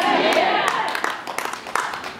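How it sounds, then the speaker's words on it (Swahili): A church congregation claps hands together, a short burst of scattered, uneven claps that build and fade over about two seconds, with voices under them. "Nipige makofi amenelewa."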